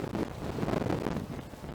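Strong gusting wind roars across a city street between apartment buildings during a storm, a dense, steady buffeting that fills the whole moment up close with no voices.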